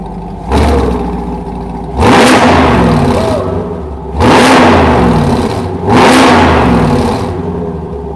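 A Corvette C7 Z06 with an AWE touring exhaust revs hard four times in a row, each loud, close burst climbing and then falling back to a rumbling idle between blips.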